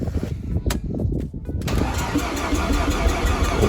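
A Mazda RX7 FD rotary engine starts for the first time: a few seconds of cranking whir, then it catches and settles into a loud, steady, raspy idle close by.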